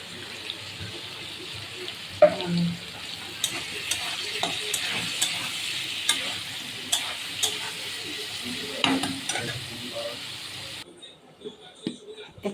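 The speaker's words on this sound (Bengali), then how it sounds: "এবার আলুটা ভালো করে ভেজে নেব।" Potatoes fry in hot oil with whole spices, a steady close sizzle broken by scraping stirs and sharp clicks of the utensil against the pan, dropping to a quieter hiss near the end.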